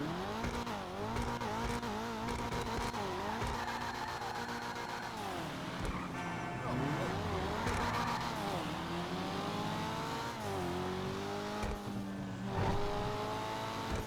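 An Annis Euros X32 sports car engine in GTA Online revs and shifts gears repeatedly, pitch climbing and dropping, loud and continuous throughout.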